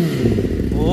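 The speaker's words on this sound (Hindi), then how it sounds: "तो भाई रेव करते हैं" A Kawasaki ZX10R with a newly fitted exhaust revs hard, a loud close engine roar rising in pitch over about a second, with a voice over it.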